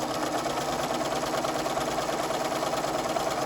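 A sewing machine runs forward along a seam in a steady, continuous mechanical whir with an even stitching rhythm, close and alone with no talk.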